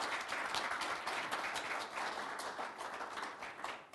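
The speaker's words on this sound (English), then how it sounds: "I think we should give him a round of applause for that." Audience applause at a parliamentary executive congress, steady dense clapping from a large crowd filling the hall for the full stretch without a pause.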